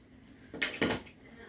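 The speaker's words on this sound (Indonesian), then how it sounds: "saya coba tang potong itu di ujung ya, sesuai fungsi utamanya memotong di ujung" Red-handled cutting pliers snip at the tip in two quick metallic clicks, close and sharp, with faint room noise around them.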